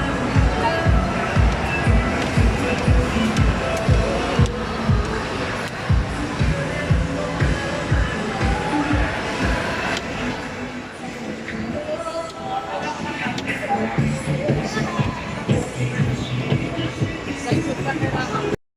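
Busy indoor arcade at Festival Mall in Alabang, with dense, continuous crowd hubbub, machine noise and rhythmic ride clatter filling the space, loud and steady, voices mixed throughout.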